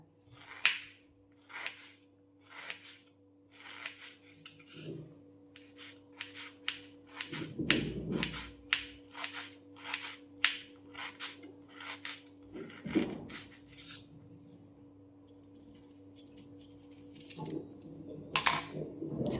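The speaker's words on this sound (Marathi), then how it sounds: "थोडंसं असं एकदम थोडं पातळ कापते" An onion is sliced lengthwise with a knife into thin, medium-sized pieces, giving a rapid series of crisp, close cuts on a board, with brief pauses and slightly heavier knocks between runs.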